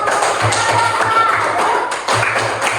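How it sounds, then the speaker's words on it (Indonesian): A sixth-grade class claps for group 1 after their presentation on human bone disorders: a dense wash of classroom clapping with soft thumps, partly under talking voices, briefly dipping before resuming. "beri tepuk tangan buat kelompok 1"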